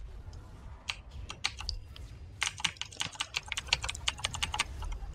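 Computer keyboard typing during a League of Legends match, with sparse clicks at first, then dense rapid keystroke bursts, close and fairly quiet over a low background hum.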